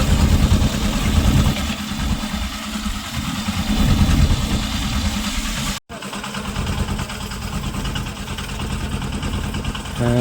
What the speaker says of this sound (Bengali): এবার আমরা যাচ্ছি ইঞ্জিন ভ্যানে করে ছোট মল্লাখালীর দিকে